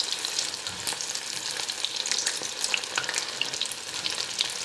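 Indian-style onion rings deep-fry in hot oil, a dense, steady crackling sizzle up close with no talking.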